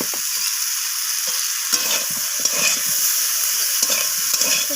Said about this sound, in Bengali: তো সমস্ত কিছু আবারও আমি কষিয়ে নিচ্ছি এইভাবে